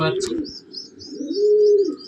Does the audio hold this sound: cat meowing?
no